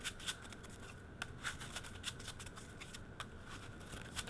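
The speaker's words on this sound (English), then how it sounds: "let's shuffle and go into test hand" Playing cards are shuffled repeatedly, with crisp riffling bursts and soft flutters, quiet and close, no voices.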